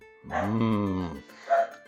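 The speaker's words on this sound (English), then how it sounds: "Disregard the barking dogs in the background." One dog gives a loud, drawn-out bark or howl, followed by a shorter yip.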